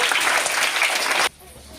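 Schoolchildren in a first- and second-grade classroom clap loudly for a classmate, a burst of close, dense applause that cuts off abruptly after a little over a second, leaving quiet room tone.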